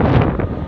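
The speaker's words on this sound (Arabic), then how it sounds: "الأجواء هنا فيها رياح ساخنة" Hot wind gusting across Mina, the pilgrim tent area near Mecca, during Hajj on the Day of Tarwiyah, heard as loud, steady rumbling buffeting against the microphone with no voices.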